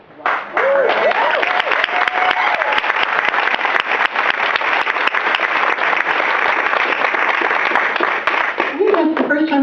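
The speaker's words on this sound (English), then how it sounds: "I think that's the first time I've ever actually gotten an applause for that" An audience bursts into loud, sustained applause, dense clapping that swells in quickly and holds steady for several seconds, with brief voices at the start and end.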